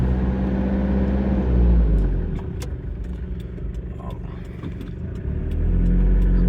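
A 1993 Toyota Hiace high-roof long-wheelbase diesel camper van with a manual gearbox rumbles along under way, its low diesel drone rising and easing as it accelerates, with faint clicks and rattles inside the cab.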